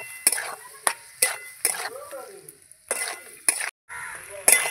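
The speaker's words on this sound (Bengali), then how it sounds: "দিয়ে এবার ভালো করে নাড়াচাড়া করে নেব।" Prawns and taro with chilli powder are stirred in a pan, giving a series of distinct spatula scrapes and clinks against metal in an uneven rhythm over a soft frying sizzle.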